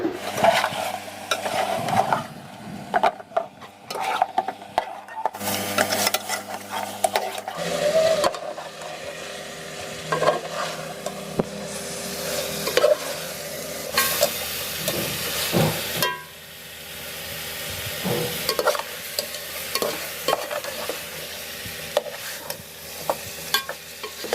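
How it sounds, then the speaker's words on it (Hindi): Beef nihari masala with large tomatoes being stir-fried in a pot, with irregular scraping and knocking of a spoon over a low sizzle that continues steadily throughout. "इसकी कर लेते हैं भुनाई, अच्छे से इसकी भुनाई कर लेंगे।"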